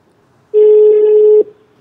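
A single steady telephone tone, a dial or ring-back tone, sounds for about a second, loud and clear with a small click at its end, then silence.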